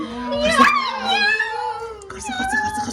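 An agitated cat yowls and meows in long, wavering cries, loud and close, with a brief pause before more drawn-out calls.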